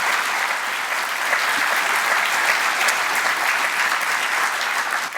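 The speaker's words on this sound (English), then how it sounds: "Can we have another round of applause for Chris Teaspoon?" Festival gala audience applauding steadily and loudly throughout, a dense sustained clapping from a large crowd with no break.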